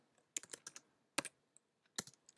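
Typing CSS code on a computer keyboard: quiet clusters of close key clicks in short irregular bursts with pauses between, no talk.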